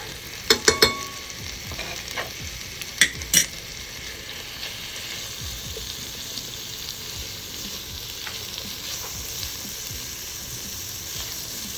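Bibimbap ingredients with garlic and sesame seed stir-fry in a pan during a Korean cooking class, giving a steady close sizzle throughout. Several sharp spatula clacks come early, then the frying hiss carries on alone.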